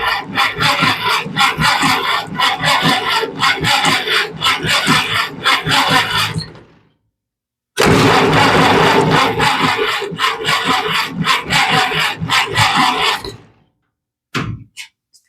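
The engine of a 1945 Massey Harris tractor cranks in two long rhythmic bursts, each churning for several seconds without catching, separated by a pause, ending with a brief sputter.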